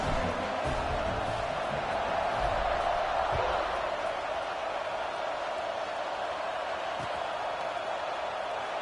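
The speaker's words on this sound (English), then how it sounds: "this crowd is buzzing after that last score." A home crowd at a football game buzzes after a score, a broad, steady roar of voices and cheers filling the stadium without letup.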